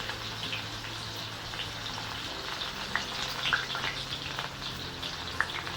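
Peeled, chopped small onions frying in hot oil for a spicy South Indian pepper kulambu, a quiet steady sizzle with scattered soft pops and crackles, no talk.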